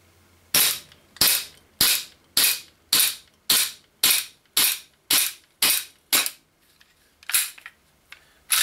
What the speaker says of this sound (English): So we'll see how this pistol performs in the cold temperature anyway.